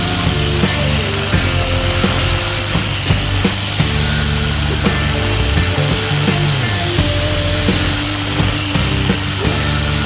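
An angle grinder converted into a homemade grass cutter runs steadily and loudly, a continuous mechanical whine with clattering, ratchet-like rattles throughout and no talking.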